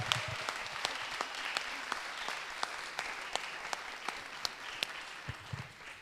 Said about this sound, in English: I think we should applaud ourselves.